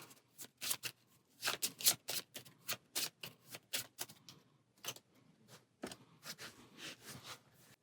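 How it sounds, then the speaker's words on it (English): Board game cards from a D&D Ghosts of Saltmarsh set are riffled and shuffled in quick, crisp bursts of flicking and slapping, close up with no talking. "we'll take these and shuffle those back in."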